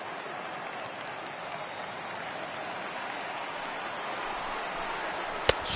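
A World Series crowd at Yankee Stadium gives a distant, steady roar of cheering and applause that swells slightly over time, with a sharp crack near the end.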